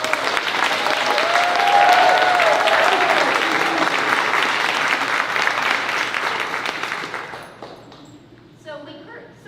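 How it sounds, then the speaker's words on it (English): A graduation ceremony audience gives another round of applause for the graduates, dense and loud for several seconds before fading out near the end, with faint voices under it. "applause"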